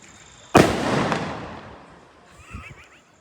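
A petrol-soaked sutli bomb firecracker goes off with a single sharp, loud bang that trails into a long fading rumble, followed by faint voices in the background.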